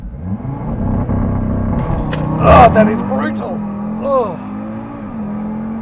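A tuned Audi RS3 engine drones steadily and shifts through gears in sport transmission mode, with a loud surge midway, while someone talks over it excitedly.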